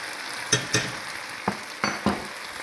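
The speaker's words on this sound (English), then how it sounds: "Stir that up." Minced garlic stirred in a hot pan for a chicken potato bake, sizzling steadily with several distinct scrapes of the utensil against the pan, close and without talk.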